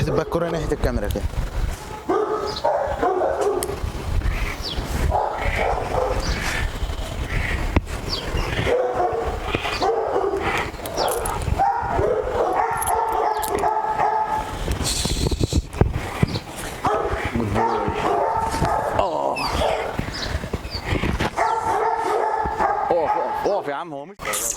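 A rottweiler on a farm barks over and over through a long, noisy stretch, with people talking over the yapping the whole time.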